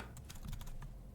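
Quick keystrokes on a computer keyboard come as a short run of soft, close taps at an uneven pace, faint and with no talking.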